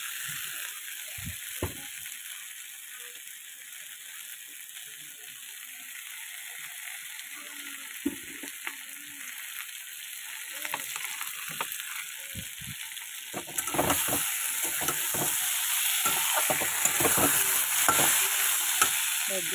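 Fish curry masala is stirred and fried in a pan, a steady sizzle under repeated scraping and clanking of the spoon against the pan. The stirring grows louder and busier toward the end, close up and with no voices.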